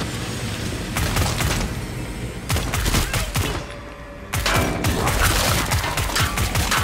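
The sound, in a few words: gunfire in the video game Killing Floor 2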